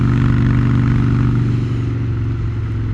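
A Harley-Davidson Crossbones motorcycle pulling uphill at nearly full throttle, engine droning loud and steady with a deep pulsing beat, heard close up without talk.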